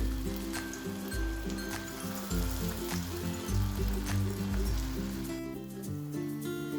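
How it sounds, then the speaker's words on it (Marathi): Cabbage manchurian balls deep-frying in oil over a low flame, giving a steady, close bubbling sizzle with crackling pops throughout, over a low rhythmic background hum. "पहिल्यांदा आपल्याला लो फ्लेमवरती तळून घ्यायचे आहे"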